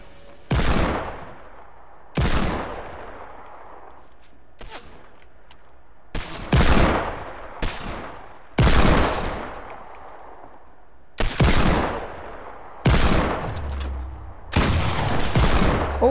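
Bursts of gunfire from a video game sound in an icy creative-mode 1v1 match, roughly eight sharp loud volleys spaced irregularly, each with a ringing decay, with no talk over them.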